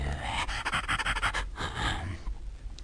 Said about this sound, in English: he saw an old hound lying in the road, gasping and panting.